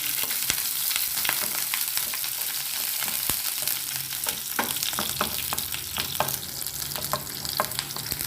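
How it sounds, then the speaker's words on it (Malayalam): Halved garlic cloves sizzle steadily in hot oil in a pan while a spoon stirs them, making repeated scraping clicks over a dense, continuous frying hiss. "വെളുത്തുള്ളി ഒന്ന് നടുവേ കട്ട് ചെയ്തിട്ടുണ്ട് അതുകൂടി ഇട്ട് കൊടുക്കാം ഇളക്കി കൊടുക്കാം"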